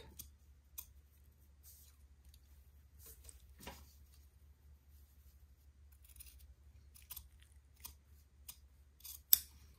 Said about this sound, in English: I will get my fabric cutting scissors, and I will trim this